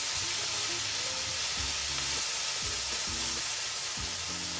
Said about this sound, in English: So we've got our prawns, and we're just going to pop them in and just going to colour them.